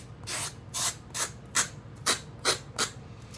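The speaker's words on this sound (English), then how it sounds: "I'm just going to sand all around the edges" Sandpaper rubs around the edges of a trimmed piece in seven short, evenly spaced strokes, each a crisp, close scratchy hiss with brief pauses between, and no voices.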